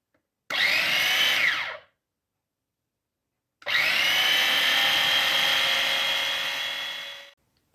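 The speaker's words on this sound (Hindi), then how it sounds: "इसको मैं ग्राइंडर में डाल के ग्राइंड कर रही हूँ" A kitchen mixer grinder whirs as it purees cooked spinach, first in a short loud burst of over a second, then after a pause in a longer steady run of nearly four seconds that slowly softens before stopping.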